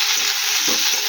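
Fish dropped into hot frying oil in a home kitchen sizzles loudly in a continuous hiss, with a brief surge of crackle midway and no talk over it.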